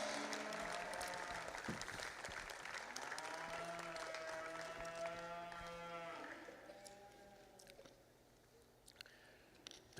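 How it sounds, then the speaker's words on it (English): Applause rolls through a livestock show ring at a state fair, with cattle lowing loudly over it, long drawn moos layered above the clapping, which fades gradually. "applause."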